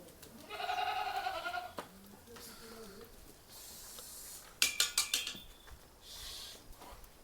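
An Osmanabadi goat lets out a loud, wavering bleat, followed by a softer second bleat and a few sharp metallic clinks against a quiet background on a goat farm.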